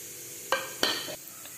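A spoon briefly mixes spices and finely chopped onion into raw chicken mince for momos, making a couple of quick, close scraping and squelching strokes.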